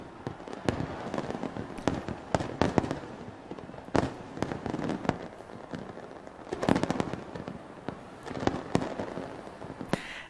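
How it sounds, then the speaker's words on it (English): Fireworks burst over Copacabana beach in Rio de Janeiro as some 16 tons of colorful pyrotechnics go off, a dense, irregular barrage of sharp cracks and booms with crackling volleys, moderately distant and continuous, with no voices. "Around 16 tons of colorful fireworks lit up the sky."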